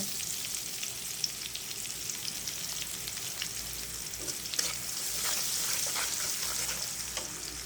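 Chopped onions fry in oil with cumin seeds, a steady, close crackling sizzle that runs unbroken throughout, with a few light stirring clicks and no talking.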